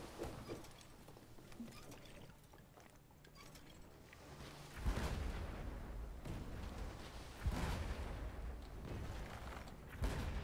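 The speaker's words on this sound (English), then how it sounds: "Can you fire with the front cannon?" Booming ship cannon blasts in the game Blazing Sails go off in a sequence, several deep thuds a couple of seconds apart, with splashing and crackling noise in between.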